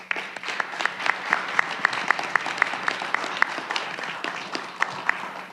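An audience at a school announcement event in Langford applauds steadily, a dense, even wash of many clapping hands with a few crisp nearby claps standing out.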